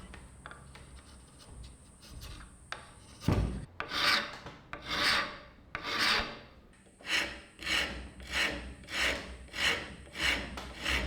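Hand tools rasping and filing a wooden guitar part, in a long run of rhythmic strokes that grow into a steady, evenly spaced back-and-forth pattern, close up with no talk.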